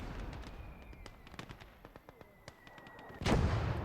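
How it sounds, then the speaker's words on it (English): Sharp anti-tank rifle shots and impacts on a half-track in Gates of Hell, heard as scattered distant cracks and thuds, then a louder blast near the end, with no talking. "I think we managed to hit the half-track with anti-tank rifle."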